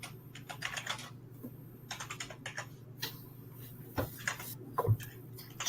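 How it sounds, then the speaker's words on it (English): Typing on a computer keyboard, a rapid run of close, crisp key clicks in uneven bursts with brief pauses, heard alone. "I can hear you typing"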